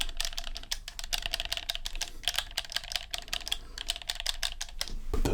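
Game controller buttons clatter in rapid, close, crisp clicks, a dense run of light plastic taps with nothing else heard, recorded in a quiet ASMR style.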